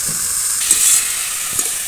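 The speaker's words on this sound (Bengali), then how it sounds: "তেলের সঙ্গে সব কিছু একটু ভালো করে এইভাবে নেড়ে নিয়েছি" Spiced red lentil mixture being stirred in hot oil, giving a steady close sizzle and hiss with a few soft scraping stirs.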